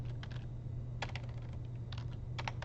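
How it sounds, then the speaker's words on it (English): A computer keyboard rattles with rapid clusters of key presses as code is typed, quiet and close over a constant low background hum. "If I could type,"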